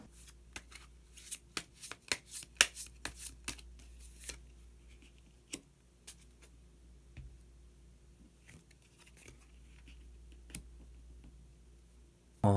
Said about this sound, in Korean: 히든 카드를 한 장 더 뽑아보도록 하겠습니다